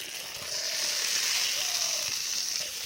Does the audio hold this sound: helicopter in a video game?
no